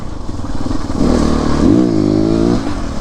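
A CrossX300x motorcycle engine revs up loudly nearby, rising in pitch over a steady idle and holding high before easing back, alone without talk.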